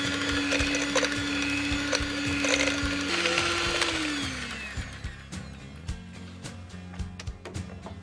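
An electric mixer beats butter for salted ajwain cookie dough, a steady loud motor whine that shifts pitch partway through and then eases, with light scraping and knocking beneath.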